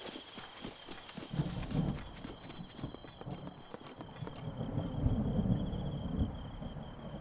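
Rhythmic clip-clop of horse hooves at a steady pace in The Legend of Zelda: Breath of the Wild, mixed with low rumbling and a faint high electronic tone.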